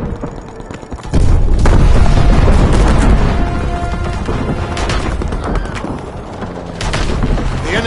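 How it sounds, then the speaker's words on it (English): A video game explosion as an ammo supply is destroyed: a sudden loud boom that stays as a dense, roaring crash of debris and blasts, lasting several seconds with further bursts near the end. "The enemies have destroyed our ammo supply, but the battle is far from over."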